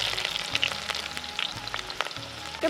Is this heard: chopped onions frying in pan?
yes